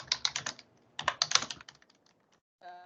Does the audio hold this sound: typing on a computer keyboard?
yes